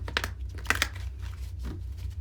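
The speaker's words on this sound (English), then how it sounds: "So I'll do one more shuffle here and then we'll get right into your reading." Tarot cards shuffled by hand in a few soft crisp bursts of riffling and sliding, close and fairly quiet over a low steady hum, with no talking.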